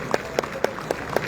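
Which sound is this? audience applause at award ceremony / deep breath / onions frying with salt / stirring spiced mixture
audience applause at award ceremony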